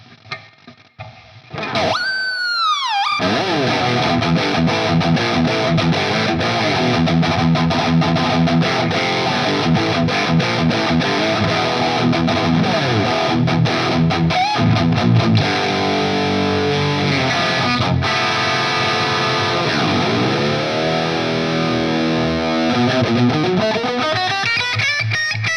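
Heavily distorted electric guitar riffs on a PRS guitar fitted with a Floyd Rose tremolo, loud and continuous, with whammy-bar dives and pitch swoops near the start and again toward the end, played alone without talk.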